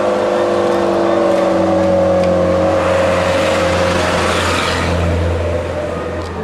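A motorcycle engine runs loud and close throughout, a steady low drone with pitch that climbs slightly, against outdoor background noise at a Balinese wedding gathering.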